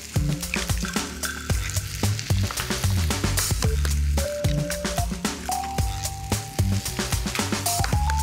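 Sautéing in a frying pan for a duck dish gives a steady, loud sizzle with scraping stir clinks, while a tonal music bed runs throughout.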